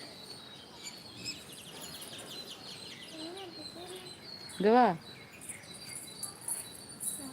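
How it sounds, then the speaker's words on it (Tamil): Birds call at sunrise: faint chirps and twitters sit over a quiet outdoor background, with one louder, sharp call near the middle and a brief spoken word. "சூரியன் உதயமாகும் நேரம் பறவைகள் தன் இறைக்காக தேடும் நேரம்"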